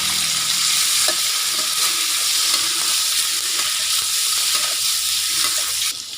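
Chicken blood pieces stir-fry with golden garlic in a hot pan, giving a continuous bright sizzle with faint scraping from stirring throughout.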